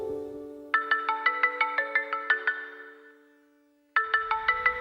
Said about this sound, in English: whenever you hear that ringtone